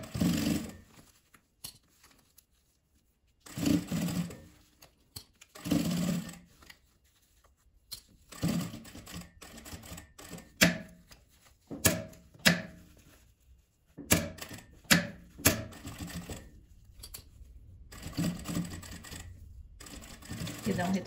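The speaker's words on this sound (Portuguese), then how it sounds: "Aqui eu vou costurar" A sewing machine stitching fabric scraps runs in short bursts with pauses between them, while someone talks in Portuguese over the stitching.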